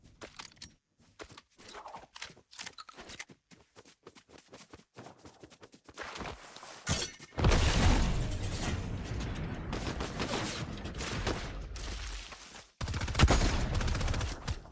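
Gunfire aimed at a bot in Fortnite. Sparse, soft clicks and steps come first, then a loud, dense run of rapid shots goes on for several seconds. A short pause is followed by another burst.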